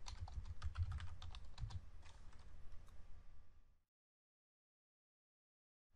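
Fingers typing PL/SQL code on a computer keyboard, a quick close run of soft key clicks lasting nearly four seconds before falling silent.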